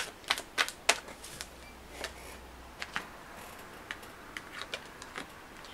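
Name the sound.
tarot cards being shuffled and pulled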